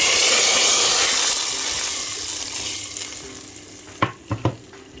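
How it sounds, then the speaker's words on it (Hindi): Tadka tempering sizzles steadily over cooked masoor lentils, a loud continuous frying hiss that fades slightly, followed by a few sharp clinks of a utensil near the end. "बाकी मसर जो रह गए ना उसके ऊपर मैं तड़का लगाऊंगी"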